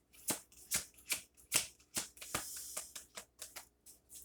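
Oracle cards being shuffled by hand close up, a quick series of crisp riffling bursts at a steady pace, with no talking.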